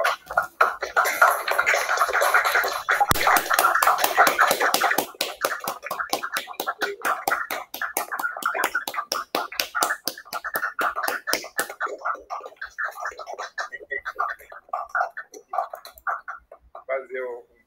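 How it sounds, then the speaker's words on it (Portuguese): Participants in an online class unmute their microphones and applaud, producing a long, dense run of rapid clapping through laptop audio that gradually thins to sparse scattered claps and faint murmuring near the end. "vamos dar uma salva de palmas a Zé Roberto e encerrar nossa aula"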